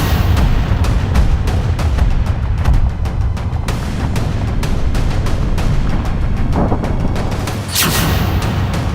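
Demolition blast at the NCR twin towers: a loud, sustained rumble of booming detonations rolling continuously for several seconds, dense and close, with no voices.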